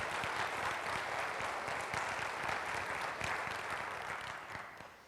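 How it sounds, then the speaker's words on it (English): A seated audience at a community facility planning meeting in Madison breaks into dense, steady applause that holds evenly for several seconds before tapering off at the end. "A special round of applause for Deb Caldwell"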